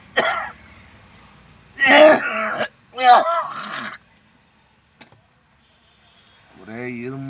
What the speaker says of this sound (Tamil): ஒரே இருமல், சளி.